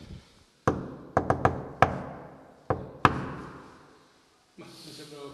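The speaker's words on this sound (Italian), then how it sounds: "Probabilmente bisogna bussare in codice." Sharp knocks strike a door in an irregular pattern, a quick cluster of raps followed by two spaced blows, each ringing out briefly. A faint voice speaks at the very end.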